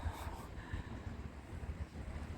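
Light wind blowing across the microphone in a seaside park in Odesa, a soft, steady, low rumbling buffet that goes on the whole time, with no speech.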